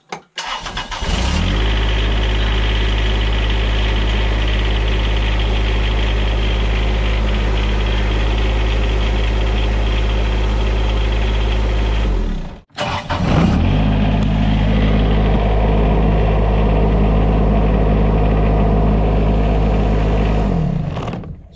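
A 20-year-old John Deere X595 diesel garden tractor cranks and fires up, then settles into a loud, steady idle close by. The engine cuts out briefly before restarting and idling again, with no one talking.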